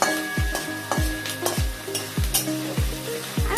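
Meat and spice mixture frying in a pan, a steady sizzle broken by rhythmic scraping stirs about every half second, close and loud with no talk.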